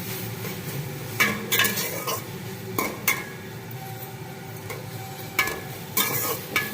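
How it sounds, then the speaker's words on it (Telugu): Curry leaves, tomato pieces and green chillies sizzle steadily in a pan for chana curry, with repeated scraping stirs and light metallic clinks of a spoon against the pan, close and loud with no talking. "కరివేపాకు, టమాటా ముక్కలు, నెక్స్ట్ పచ్చిమిరపకాయలు వేసుకోవాలి. దీన్ని బాగా ఫ్రై చేసుకోవాలి"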